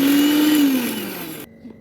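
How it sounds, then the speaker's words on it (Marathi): A kitchen mixer grinder whirs loudly as it grinds neem leaves, its motor pitch sliding downward as it winds down before cutting off abruptly, leaving near silence. "आता याला आपण मिक्सरमध्ये बारीक करून घेऊया."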